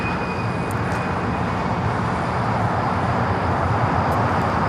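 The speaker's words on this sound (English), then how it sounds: "Qantas Flight 11, the A380 Super, making that right-hand turn onto taxiway Kilo" At LAX airport, airliners taxi, including a Qantas A380, with a loud, constant jet engine rumble and whine that holds evenly throughout, close by and without pause.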